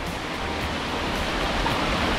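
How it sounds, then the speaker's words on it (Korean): The three-tier Yongchu waterfall at Daeyasan, a mountain valley cascade, gives a constant, broadband rush of falling water that stays steady and fairly close, with no voices over it. "3단 폭포인데 각 단마다 모습이 매우 다른 아주 신비한 장소입니다"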